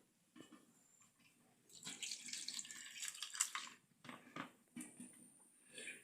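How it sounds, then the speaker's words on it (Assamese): Potatoes being washed under a running kitchen tap, with water splashing and gushing in uneven bursts, close but fairly soft, alongside faint handling sounds and no talking. "এয়া আলু ধুইছোঁ। পুৰা আলুটো চফাকৈ ধুই ল'ম।"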